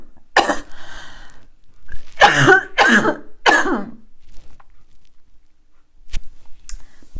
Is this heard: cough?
yes